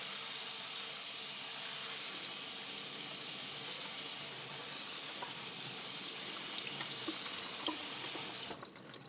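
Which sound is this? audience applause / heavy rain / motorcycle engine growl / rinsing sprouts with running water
rinsing sprouts with running water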